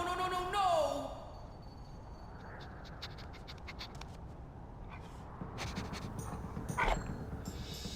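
Panting of a dog character in a video game, a quiet rhythmic breathy huffing with scratchy clicks, faint and steady throughout with no talk.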